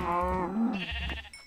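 A cow in Minecraft gives a short lowing moo, close and clear, followed by a faint blip of game sound.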